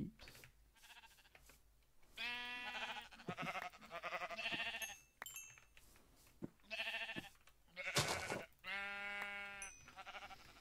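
Sheep in Minecraft bleat repeatedly, several drawn-out quavering calls spaced a second or two apart, moderately loud over faint game background sounds, with a person speaking quietly.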